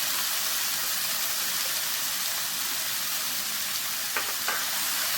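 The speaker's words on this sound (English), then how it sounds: "This chicken is now cooking for about 3 minutes on a high heat. Take a look at that. Really nice, sizzling away." Chicken sizzles in a pan over high heat for a restaurant-style vindaloo, a loud steady hiss and crackle with a couple of brief clinks near the end.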